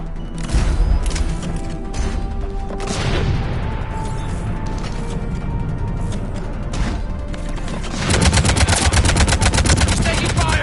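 Sustained automatic gunfire from a Mass Effect 3 firefight, dense rapid bursts running nearly continuously with a brief sweeping whoosh early on and a louder, heavier volley near the end.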